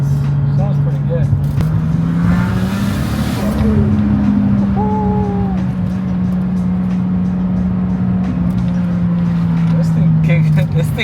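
A JDM car's engine drones steadily while driving, a close, continuous low hum that rises in pitch briefly then holds level throughout, with no talk over it.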